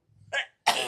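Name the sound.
sneeze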